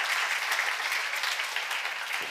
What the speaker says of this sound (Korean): 시간 박수로 하나 해주세요.